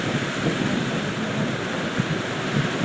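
Ocean waves, wind and heavy rain in bad weather on the water in the Sundarbans form a dense, steady roar that fills the whole stretch, close and loud, with no voices.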